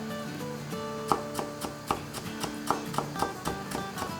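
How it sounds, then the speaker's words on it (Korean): Garlic minced finely with a kitchen knife on a cutting board, a run of quick, close, steady chops and taps, with faint background music underneath. "마늘 다져주시고요"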